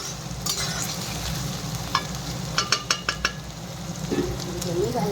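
Tomato and onion sizzle in a pan for a Bengali mustard-greens dish while a spoon stirs them, with a run of sharp scraping clicks against the pan over the continuous frying hiss.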